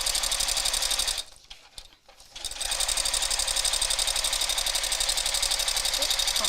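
A domestic sewing machine runs a fast, even stitching rattle across fabric, pausing briefly midway before resuming at a steady pace, close and loud.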